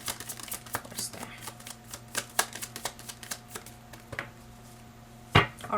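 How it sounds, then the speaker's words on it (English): Tarot cards being shuffled by hand, heard as a quiet, close run of crisp taps and soft riffling flicks in an irregular rhythm, ending with a sharper knock near the end. "I'm gonna shuffle one more and see what's there."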